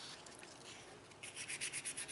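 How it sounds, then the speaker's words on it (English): Hand sanding a knife handle with sandpaper on a karambit made from a lawnmower blade, a soft steady rubbing that turns into quicker rhythmic back-and-forth strokes, close and fairly quiet with no talk. "Then I hand sand and finish it off with multiple grits of sandpaper"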